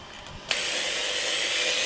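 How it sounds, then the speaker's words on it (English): A drill bit bores through a small ball, starting abruptly with a bright, steady grinding whir that continues evenly after a brief quiet moment. "make sure the drill bit goes right through the ball"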